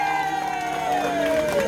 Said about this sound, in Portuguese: Uma salva de palmas pro Isamildo!